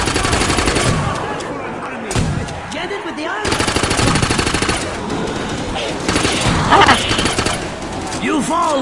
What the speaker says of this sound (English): I'm shooting it.